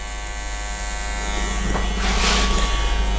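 Electric hair clippers cut hair during a freehand haircut, a steady close buzz that holds alone and rises slightly in loudness toward the end.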